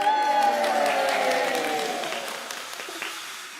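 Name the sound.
audience applause welcoming contestant Prudence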